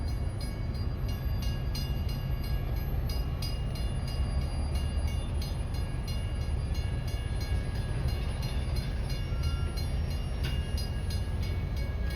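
U.S. Sugar 148, a steam locomotive on a holiday excursion run, rolls with a steady loud rumble of wheels and cars on rails, occasional clicks and faint hissing, slowing toward a stop with no talk.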